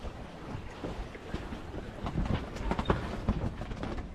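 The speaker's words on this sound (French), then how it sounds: "Et là, il y a un petit peu de vent" Wind gusts across a sailboat sailing off southern Majorca near Es Trenc, a steady rushing roar with louder buffets and faint creaks or splashes, no talk.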